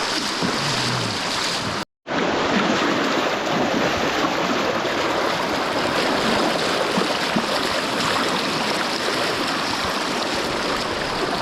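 Loud, steady rush of a river during a sketchy crossing on a cold gold-mining trip, broadband water noise filling the whole stretch with a brief dropout near the start.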